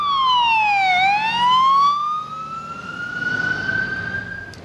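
A New York City fire engine siren wails loudly nearby, dipping and then rising in a long sweeping tone, with faint road rumble underneath.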